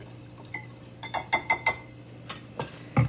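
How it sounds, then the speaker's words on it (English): A whisk taps and clinks against a bowl as flour, salt and baking soda are mixed for cookies, giving a quiet, close, uneven run of sharp metallic ticks with short pauses. "I'm going to whisk these ingredients."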